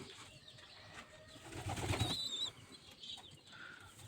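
Pigeons and their chicks in a loft during supplement feeding, with soft cooing and thin chirping calls close by, swelling briefly in the middle, with no talking.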